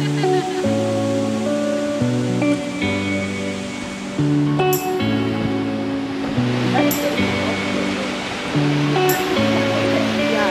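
A waterfall below Lake Serene in Washington State roars as a steady, broad rushing wash of falling water, with stepped tonal notes like music layered over it throughout.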